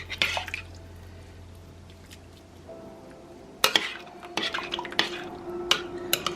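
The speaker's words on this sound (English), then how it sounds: "Okay, we're gonna just mix that up, and that's gonna make our sauce thicker." Thickener is stirred into the sauce of a slow cooker beef pot roast, with a spoon clinking and scraping against the pot in quick, irregular bursts, fairly close and quiet.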